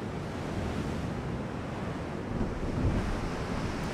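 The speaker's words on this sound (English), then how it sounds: "And we're in a storm." Stormy sea in the naval battle game Ultimate Admiral Dreadnoughts, with a steady roar of wind and crashing waves, loud and continuous with no talk.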